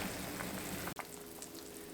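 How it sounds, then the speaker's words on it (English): Celery and potato soup simmering in a pot, a faint, steady bubbling hiss with soft pops, briefly cut by a sharp click partway through, then continuing quietly. "we'll just let that simmer on away until we get tender"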